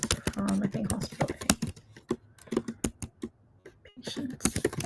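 Computer keyboard typing while a SQL query is entered during a software demo: a brisk run of light, irregular key clicks, close and fairly loud, thinning out midway before resuming.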